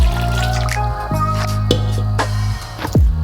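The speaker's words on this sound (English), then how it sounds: "I've added a little bit more water as well because it had dried out." Water poured into a pot of simmering vegan Cuban beans, with wet dripping and splashing over a steady bubbling simmer and a few sharper plops near the end.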